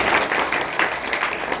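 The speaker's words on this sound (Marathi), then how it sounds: "वा छोट्या मर्दंग्यासाठी एकदा टाळ्या" Short burst of audience applause at a kirtan gathering in Parbhani, honoring a young mridang player; dense, steady clapping from a nearby crowd throughout.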